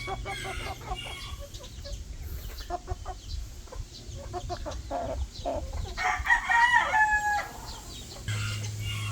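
Hens cluck steadily nearby while a rooster crows out clearly partway through, with rustling farmyard background noise throughout.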